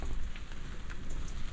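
Rain patters and drips onto a tarp and the forward deck of an 88-year-old open-cockpit 26ft timber boat, a close, continuous spattering with scattered louder drops.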